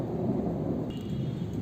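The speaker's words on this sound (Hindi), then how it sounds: "ये बादल देखिए कितनी ज़ोर ज़ोर के गरज रहे हैं और बारिश शुरू हो गई है।" A low rumble of thunder rolls under steady rain, continuous and moderately loud, with no voices.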